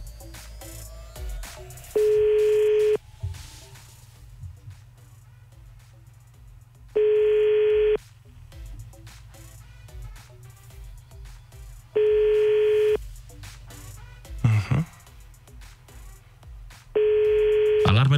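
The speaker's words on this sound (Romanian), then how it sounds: "Sau, mă rog, suneria telefonului." A phone call's ringback tone repeats four times, each a steady two-second electronic burr with long pauses between, loud and clear, with faint room noise and a few small knocks in the gaps.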